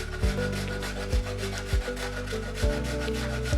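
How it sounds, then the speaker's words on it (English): Ginger nut cookies being grated for a cheesecake base, a dry rasping scrape repeated in steady strokes with regular thumps about every second. "I'm grating these ginger nut cookies."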